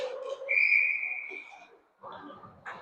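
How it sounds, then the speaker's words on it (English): A single sharp referee's whistle blast lasting about a second sounds at a youth ice hockey game, framed by faint rink noise and distant voices. "we get a whistle with 30 seconds left on the power play"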